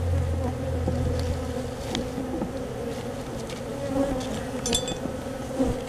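Bees buzzing around an open hive in a bird house, a continuous close swarming hum of many insects with occasional louder individual passes near the microphone.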